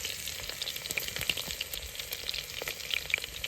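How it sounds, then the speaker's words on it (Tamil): Fenugreek seeds, mustard seeds and garlic crackling in hot oil for a village-style fish curry, a soft continuous sizzle with small pops scattered through, quiet and close with no talk. "எண்ணெய் காஞ்சிருச்சு, வெந்தயம் போட்டாச்சு, அதுக்கப்புறம் கடுகு, பூண்டு போட்டாச்சு"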